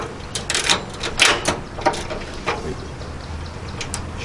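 A ratchet wrench works a nut loose from the front of a Green Mountain Grills Daniel Boone pellet grill, giving a series of close, sharp clicking and rattling bursts in an irregular rhythm, with brief metallic clanks between them and no talking.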